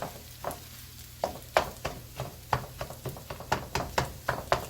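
Egg fried rice being stir-fried and broken up in a pan: a quiet, steady sizzle punctuated by a regular series of sharp scraping and tossing strikes of the spatula, about three per second, with no talking.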